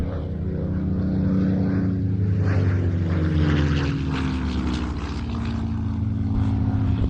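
A propeller-driven fighter aircraft at the Old Buckenham airshow, painted in 309th Fighter Squadron colours, drones steadily overhead, a loud continuous engine roar with no one speaking.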